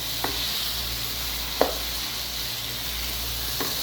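Okra tossed into a frying tomato masala in a pan gives a continuous close sizzle, broken by three brief clanks of a spoon or spatula against the pan.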